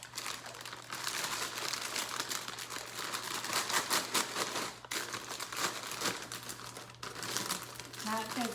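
Steady, close crinkling of a plastic bag being handled, continuous rustles and crackles with a few brief pauses.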